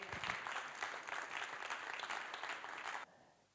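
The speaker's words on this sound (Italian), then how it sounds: "Lo chiamiamo sul palco e lo accogliamo con un applauso." An audience at a civic event in Vittorio Veneto gives sustained applause to welcome a speaker to the stage, an even wash of clapping that cuts off abruptly near the end, leaving quiet room tone.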